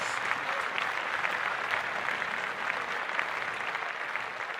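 Steady applause for Mets starting pitcher Jose Quintana on his 100th career win, a dense, continuous patter of many clapping hands at moderate level without pause.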